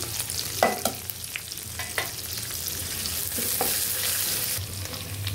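Onions, green chillies, ginger and garlic fry with a continuous hiss and crackle, punctuated by several sharp scrapes and taps of a spoon stirring the pan, swelling slightly louder toward the end; no voices.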